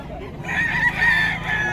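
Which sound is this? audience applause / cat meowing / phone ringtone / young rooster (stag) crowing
young rooster (stag) crowing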